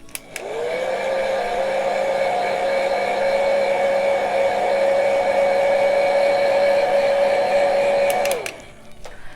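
Hair dryer blowing on freshly painted holiday tags, a loud steady whine that starts abruptly, holds for about eight seconds and cuts off, with no talk over it.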